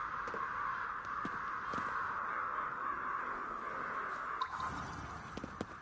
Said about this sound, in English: With the crows.